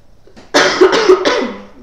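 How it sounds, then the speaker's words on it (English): A single close, loud cough from someone fighting a cold, made up of three quick harsh bursts over about a second, followed by a short breathy trail and then silence. "Sorry if I cough on you guys."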